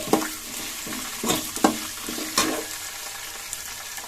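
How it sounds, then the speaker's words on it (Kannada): Capsicum frying in a pan on a medium flame while cooking lemon rice, with steady sizzling broken by several loud scraping stirs of a spatula. No voices are heard. "ನೋಡ್ತಾ ಇರ್ಬೋದು ಇದು ಫ್ರೈ ಆಗ್ತಾ ಇದೆ ಮೀಡಿಯಂ ಫ್ಲೇಮಲ್ಲೇ ಫ್ರೈ ಮಾಡ್ಕೋಬೇಕಾಗುತ್ತೆ"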